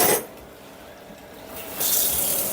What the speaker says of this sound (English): We are going to get a decent amount of the pasta water.